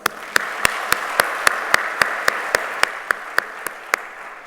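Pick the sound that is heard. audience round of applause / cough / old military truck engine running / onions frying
audience round of applause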